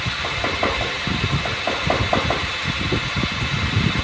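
A radial arm drilling machine running in forward rotation, a loud steady mechanical drone with a rhythmic rattling pulse throughout.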